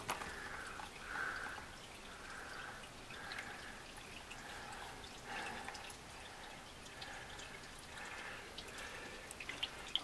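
Thin, watery oil contaminated with gas drains from a 1955 Pontiac Chieftain engine, giving a faint, steady trickle with light repeated drips throughout, no voices.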